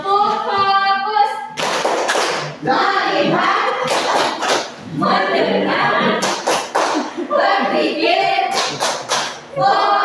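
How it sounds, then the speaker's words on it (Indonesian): Rhythmic bursts of classroom focus clapping (tepuk fokus) alternate with a group of voices chanting in unison, the claps landing in crisp clusters under and between the chant. "Coba tepuk fokus."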